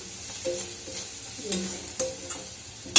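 Food sizzles and fries in a pan with a constant hiss, while a utensil scrapes and stirs at irregular moments, close and fairly loud.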